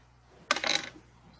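Dice dropped onto a table during a Pathfinder tabletop role-playing game goblin battle: one close, sharp clattering rattle lasting about half a second, then quiet.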